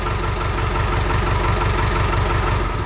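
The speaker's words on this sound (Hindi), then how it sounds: "ऐसे गाड़ी स्टार्ट होनी चाहिए।" A modified 1989 classic jeep engine idles just after starting, a steady, close, low rumble with a rapid even pulse and no talking.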